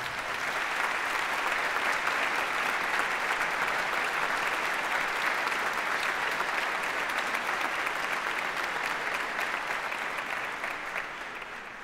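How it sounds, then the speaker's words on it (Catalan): A concert hall audience at a Valencia band competition gives long, sustained applause for a composer, a thick, even roar of clapping lasting about twelve seconds before easing slightly at the end. "Un aplaudiment per a ell, per favor."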